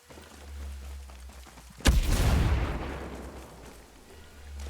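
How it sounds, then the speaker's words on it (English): Grenade explosion in Ghost Recon Breakpoint PvP, a single sharp boom followed by a rumbling decay over low steady game background noise. "Throwing a grenade."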